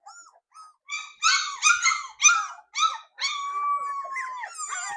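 Labrador Retriever puppies, nine in a litter at bath time, give a run of high whimpers, yelps and short barks in quick uneven bursts, ending in a drawn-out whine, close and fairly loud with no talk.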